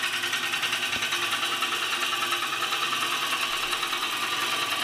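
A wood lathe turning a workpiece into a bowl, with a steady close motor hum and a fast even pulsing whir, broken by one brief knock near the start, the turning tool moving across the workpiece and no talk.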